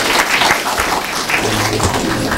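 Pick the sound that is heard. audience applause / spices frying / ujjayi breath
audience applause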